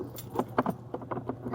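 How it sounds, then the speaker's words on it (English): Small keys jangling in a hand while being sorted, a quick burst of bright metallic clinks and rattles, close and clear with no talk. "I got a few of these little keys"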